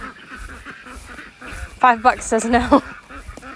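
Ducks quacking close by at a backyard duck house during an evening egg collection, a few short honking quacks in a quick cluster, with a person speaking briefly just before.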